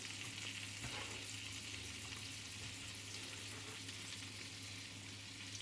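Sausages and eggs fry in a pan with a steady, faint sizzle that holds evenly throughout. A soft clink sounds once, and no voices are present.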